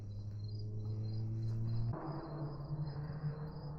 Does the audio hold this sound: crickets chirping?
yes